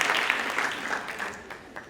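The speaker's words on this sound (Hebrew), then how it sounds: "בואו נקבל אותה במחיאות כפיים" An audience at a school graduation ceremony applauds with dense, close clapping that starts loud and gradually fades over a couple of seconds.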